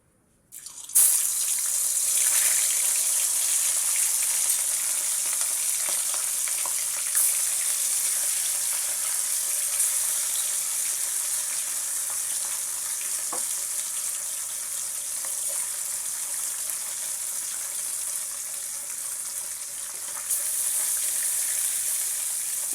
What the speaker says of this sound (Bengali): তেলটা গরম হয়ে গেছে, দেখতে পাচ্ছ তেল থেকে ধোঁয়া ছাড়ছে। এবার মাছগুলো দিয়ে দেবো।